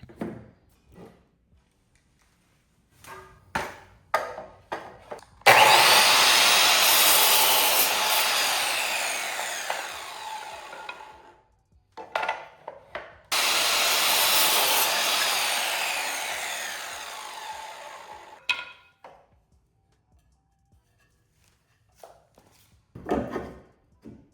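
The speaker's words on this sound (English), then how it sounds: "then cut them down to size with my miter saw" A miter saw slices through scrap wood boards in a workshop: two long, loud cuts of several seconds each, framed by clattering handling of the boards and clicks before and after.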